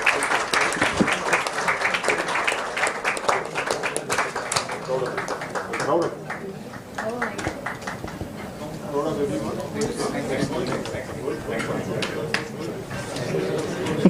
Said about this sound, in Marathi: जोरदार टाळ्या यांच्यासाठी एकदा होऊन जाऊ द्या.